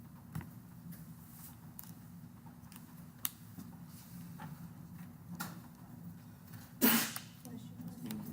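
A single short sneeze in a classroom during a lecture, faint and brief near the end, rising over low room noise and quiet background voices.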